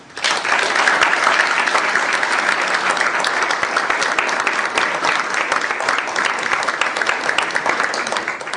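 Sustained applause from a crowd at an Iraqi veterans license plate bill signing, dense and even clapping from many people, loud and continuous for several seconds without a break.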